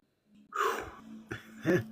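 A few harsh, close coughs in quick succession, with a short breathy pause between bursts.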